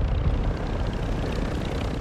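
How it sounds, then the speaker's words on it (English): A helicopter in the shooter game Warzone 2 roars steadily and loud, a dense rotor-and-engine drone filling the whole stretch without pause or speech. "That's an enemy chopper, that's a bot chopper"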